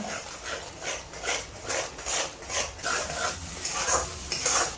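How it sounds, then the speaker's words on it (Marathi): Onion paste being fried in butter for homemade butter chicken, with rhythmic stirring and scraping of a spoon against the pan over a soft, steady sizzle, close up and moderately loud throughout. "कांद्याची जी पेस्ट तयार केलेली आपण ती ह्याच्यामध्ये घालून घेऊ तिला असं भाजून घेऊया आपण"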